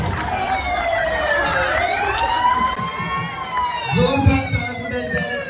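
Emergency siren wailing at a costume parade event, its tone sweeping down then climbing again, loud and fairly close over crowd noise with people talking in the background.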